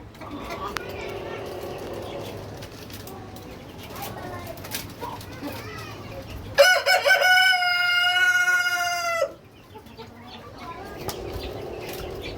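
Brahma hens in a poultry yard, with a single loud, drawn-out crow standing out partway through and softer clucking around it, while people talk before and after.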